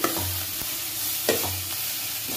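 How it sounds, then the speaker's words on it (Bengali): Maggi noodles with egg are stirred in a pan over medium-low heat, a spatula scraping in a few distinct strokes over a constant frying hiss, near and fairly loud with no speech. "এবার ম্যাগিটা দিয়ে একটু নাড়াচাড়া করে নেবো।"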